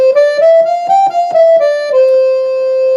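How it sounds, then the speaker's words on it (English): A Roland accordion on its piccolo 4-foot reed setting plays a short run of bright, reedy sustained notes, each articulated in a steady rhythm, then settles on one held tone, loud and close with no talking. "And then the standard piccolo which is again a 4-foot setting"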